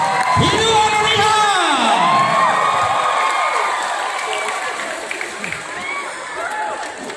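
Outdoor crowd cheering and whooping at a stone-jumping attraction opening a Nias cultural competition in Riau, Indonesia, with loud continuous shouting and applause that tapers off slightly toward the end.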